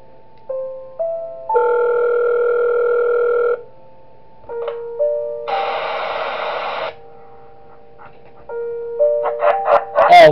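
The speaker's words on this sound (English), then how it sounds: "Alright, we get a phone call." An electronic phone ringing tone in the horror video game Five Nights at Wario's, sounding in a sequence of steady sustained tones with short gaps between them, clear and moderately loud, with no talking.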